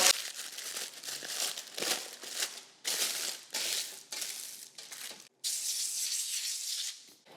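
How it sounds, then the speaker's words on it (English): Parchment paper being handled and laid onto a cookie sheet for making candy and caramel apples, a series of loud, close crinkling and crumpling bursts with brief pauses, no voices. "That's why I'm putting parchment paper on here as well."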